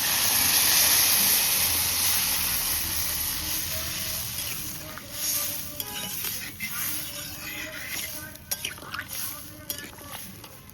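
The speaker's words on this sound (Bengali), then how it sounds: "এইবারে অল্প করে জল দেব।" Water poured into a sizzling pan of crab curry hisses loudly at first, then settles into softer frying and stirring scrapes, with a quiet voice murmuring over it.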